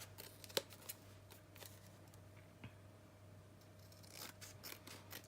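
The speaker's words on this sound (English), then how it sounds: "I'm just going to trim off some excess here." Scissors trim excess paper from a scrapbook page, making faint, sparse snips and papery crinkles, close up against a low steady hum, with no talking.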